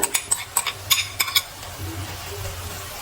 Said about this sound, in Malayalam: നമ്മുടെ പ്രധാന ഐറ്റം, മെയിൻ നായകൻ ഈന്തപ്പഴം നമ്മുടെ ചട്ടിയിലേക്ക് വീഴുകയാണ്